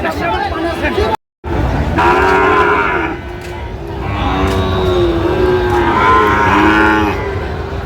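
Sahiwal cattle at a cattle market in Netrokona and Kishoreganj give several long, loud moos close by, with people talking over them and a busy market din behind.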